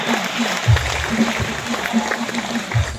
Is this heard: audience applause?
yes